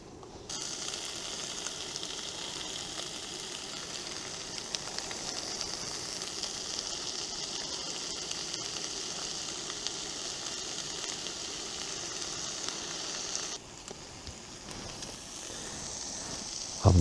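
Streaky bacon sizzles in a pan at a woodland camp in heavy rain, a constant soft frying hiss with faint clicks, the sound dipping briefly near the end.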